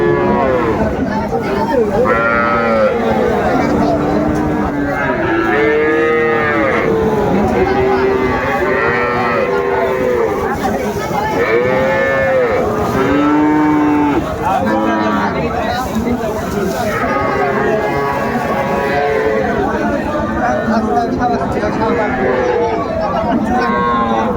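Many cattle, including young bull and heifer calves, moo and bellow over and over, overlapping one another, amid the steady noise of the crowded Aftabganj livestock market in Dinajpur.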